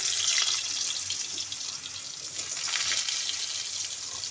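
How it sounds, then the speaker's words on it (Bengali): Potatoes fry in hot mustard oil, heard as a continuous loud hissing sizzle that stays steady throughout, close and without talk. "তেল গরম হয়ে গেছে, এরপর আলুগুলো ভেজে নেব।"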